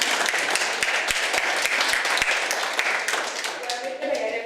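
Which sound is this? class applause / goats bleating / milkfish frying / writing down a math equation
class applause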